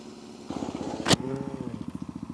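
A motorcycle engine pulses with a rapid, even beat, then revs in a short burst with a sharp clatter and settles back into a steady throb while riding.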